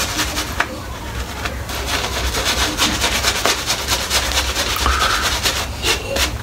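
A shaving brush lathers soap over a shaved head, giving a close, continuous wet scrubbing and swishing with rhythmic strokes throughout.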